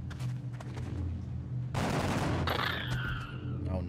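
Gunfire from a soldier in the strategy game XCOM: Enemy Within, a loud broadband burst of shots with a harsh crack and rumbling tail over steady game background hum.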